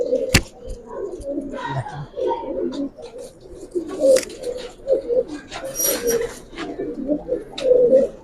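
Pigeons in a loft, including giribaz breeds, coo repeatedly in soft overlapping rolls throughout. A sharp slap and a few chirps mix in, with faint background activity.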